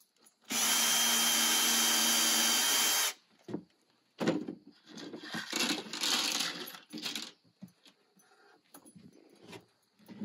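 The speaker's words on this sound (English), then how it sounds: "And what you're going to do is pre-drill." A power drill whirs loudly for about three seconds while pre-drilling, then stops, followed by scattered clicks, clatter and handling noises.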